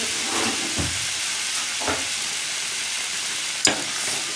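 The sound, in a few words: stirring boiling wheat lentil pudding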